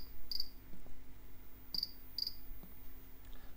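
A passive buzzer driven by an Arduino Nano imitates a cricket, giving short, sharp, high chirps: one near the start, then two more close together a little over a second later, over quiet background hiss.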